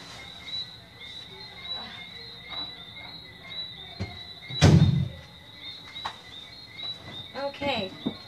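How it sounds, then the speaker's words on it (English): A door thuds and rattles as it is pulled open, a single heavy bump amid faint clicks and a steady high insect-like whine. "I'm just pulling this door."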